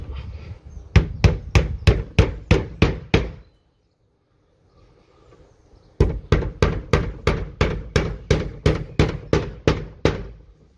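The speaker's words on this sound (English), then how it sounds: "The panel itself flexes when you're nailing them in" A hammer strikes nails into a wooden panel in the middle of a six-foot fence, two fast even runs of sharp knocks separated by a short pause, close and loud with no talk.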